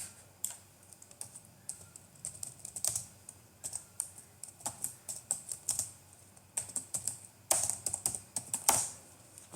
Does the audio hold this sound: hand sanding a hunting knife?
no